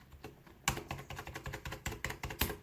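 Typing on a Rosewill K51 RGB keyboard, a hybrid board whose switches feel between mechanical and membrane: a close, quick run of soft clacking keystrokes in an uneven rhythm, heard alone.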